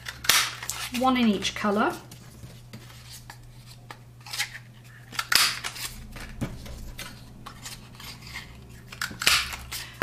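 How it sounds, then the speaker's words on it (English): A 7/8 inch scallop paper punch cutting shapes from cardstock, several sharp crisp clunks spaced a few seconds apart, close and loud, with a brief spoken remark early on. "I'm just going to punch out, this is 7/8 inch, and it's the scallop punch."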